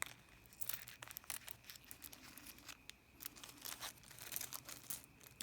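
Small reusable plastic bags holding vintage glass buttons crinkle and rustle in quick, uneven bursts, close and fairly quiet, with no talking.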